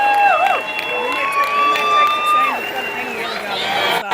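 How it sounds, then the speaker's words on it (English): A wrestling crowd at an AEW Dynamite show cheers loudly and steadily, with shouting and whistles rising and falling in a dense wall of sound throughout. "Crowd goes crazy."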